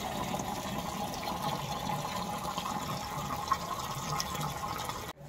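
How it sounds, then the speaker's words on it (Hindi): Water runs steadily into a container at home, a continuous rushing pour that holds level for about five seconds before cutting off abruptly at the end. "तो इस पानी भर रहा है।"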